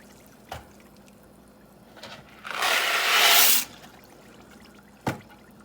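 Dry macaroni is poured into a pot in one rushing clatter lasting about a second, set between a few isolated knocks against the cookware, close and with no talking.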